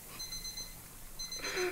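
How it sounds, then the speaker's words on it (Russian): Alarm clock ringing inside the VR horror game Stifled, with repeated high electronic beeps in short bursts at the start and end, fairly faint under a hissy background. "Будильник."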